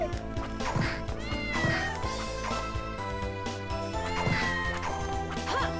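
Cat meowing in Castlevania: Order of Ecclesia, repeated in-game mews over layered game music with thuds, fairly clear and steady throughout.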